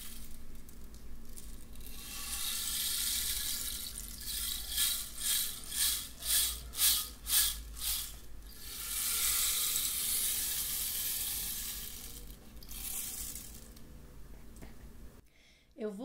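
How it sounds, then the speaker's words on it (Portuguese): An indigenous rattle filled with small sticks and a seed, shaken in a rolling, rustling swish that swells into a rhythmic series of pulsed shakes before fading, fairly close. "Aqui dentro são vários palitinhos e por dentro uma sementinha que vai passando e dando o som."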